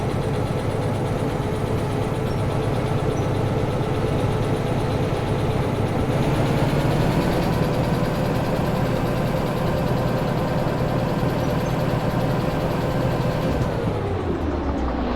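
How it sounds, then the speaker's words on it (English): A locomotive engine in the train game Derail Valley runs steadily, a loud, continuous low rumbling drone with a constant hum that shifts slightly midway and drops off near the end. "We're going to want to cool down that engine while we can."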